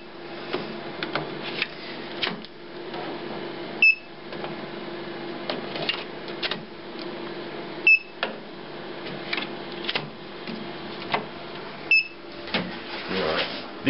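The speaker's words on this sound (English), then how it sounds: "Hear the design jet beeping to say it's accepted the inks." An HP Designjet Z3200 large-format photo printer gives short single beeps about every four seconds after accepting ink cartridges, faint over a steady mechanical hum and light handling clatter nearby.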